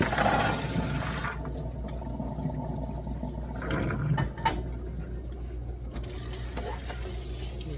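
Water drains from a pot of soaked beans in a home kitchen, a steady rushing pour that tapers off partway through, followed by a quieter low hum and faint clatter.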